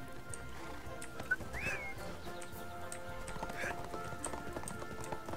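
Horse hooves clip-clop in a steady rhythm while riding in the ArcheAge game, with a short whinny. Soft ambient game sounds sit underneath, and a person talks over it.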